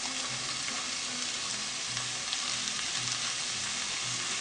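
Separated onions sizzling in a hot pan for spinach noodles, a steady close hiss of frying with faint soft stirring scrapes and no voices.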